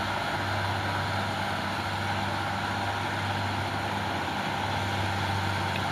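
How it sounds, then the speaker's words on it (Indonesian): An orange Fuso 6x2 truck climbs a steep hill in the right lane, its engine giving a steady, loud low drone with a constant rumble and no pauses or voices. "Satu unit truk Fuso Oren mengambil jalur kanan bosku, 6x2 mengambil jalur kanan untuk memudahkan menanjak ya"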